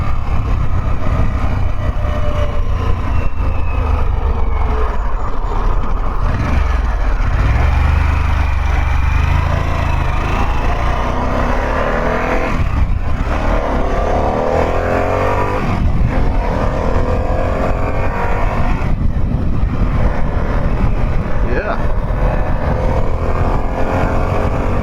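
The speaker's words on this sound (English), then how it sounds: "This is a bike that you definitely can't be afraid to be on the throttle. Definitely want to give it some good throttle there." A 2022 Harley-Davidson Pan America motorcycle engine pulls steadily under throttle while riding, a loud, continuous drone with wind rush that rises and falls as the rider rolls the throttle on and off.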